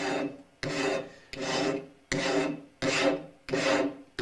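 A metal file is stroked across the beveled edge of a pottery trimming tool to sharpen it, giving six steady, evenly spaced rasping strokes close up, each ending with a brief pause.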